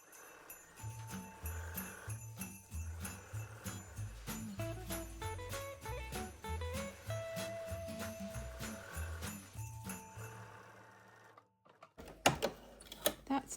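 A sewing machine stitches scrappy quilt pinwheel blocks for a Christmas quilt, a steady mechanical whir that runs continuously under light tinkling background music and stops near the end.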